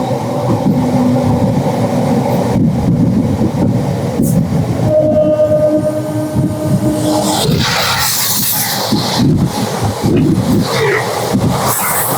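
A Bardhaman–Asansol MEMU passenger train rumbles steadily with wheel and brake noise, a long horn-like tone sounding midway, then hissing air and clatter as it slows arriving at a station.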